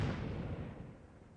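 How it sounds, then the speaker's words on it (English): Artillery fire in the video game Conqueror's Blade, a dense booming rumble of cannon blasts that starts loud and slowly rolls off, with no voices. "Cool, we added artillery."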